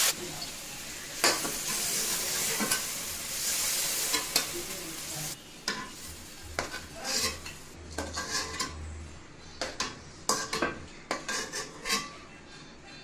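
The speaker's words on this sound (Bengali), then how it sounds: "চিকেনগুলো ভেজে নেওয়া হয়ে গেছে, এবার আমি এই চিকেনগুলো আলাদা করে তুলে রাখবো।" Fried broiler chicken pieces are lifted out of sizzling oil in a pan, with metal utensils clinking and scraping in irregular bursts over a continuous frying hiss that quiets partway through as the pieces come out.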